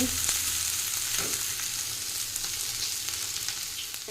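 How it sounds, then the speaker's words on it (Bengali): Plantain, beetroot, potato and carrot pieces fry in oil, giving a dense, even sizzle close by with a few faint clicks, continuous throughout and without any voices. "এখানে কলা বিট আলু গাজর ভাজা করেছি"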